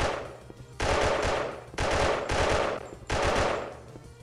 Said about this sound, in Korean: 멀리서 지원 사격 해줘야지 이거